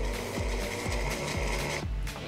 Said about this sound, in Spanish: Ahora vamos a proceder a echar el jugo de limón.